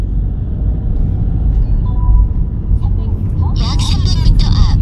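A car pulls away with a low, steady engine rumble on a Busan Nambu road driving test course; near the end a voice speaks briefly over the engine.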